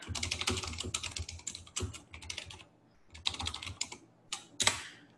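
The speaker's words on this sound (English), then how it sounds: "So I'll type it in here so you guys have it" Typing on a computer keyboard comes in quick, close clattering bursts separated by short pauses, fairly quiet, with no one speaking.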